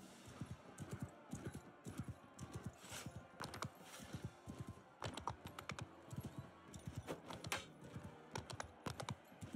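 Horse hooves clip-clop in the medieval video game Realm of Thrones, a quick irregular run of sharp clopping beats that pauses briefly midway and then continues, with no talking over it.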